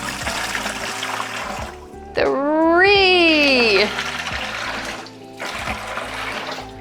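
Cups of water are poured one at a time into a bucket while mixing a tie-dye soda ash soak, giving a loud splashing gush in the middle flanked by quieter trickles, with a voice counting aloud.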